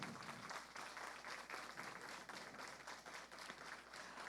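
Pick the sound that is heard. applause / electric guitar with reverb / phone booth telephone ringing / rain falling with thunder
applause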